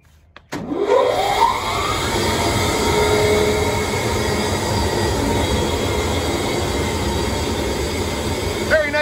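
A Spencer 3 HP steel air agitation blower starts up and runs with a loud, steady broadband roar and whine that rises in pitch over the first second, then holds constant and close throughout.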